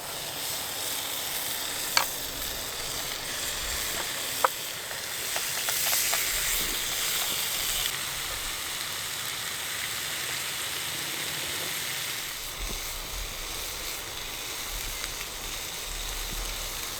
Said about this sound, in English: So I'll say like Gordon Ramsay, the bacon goes in.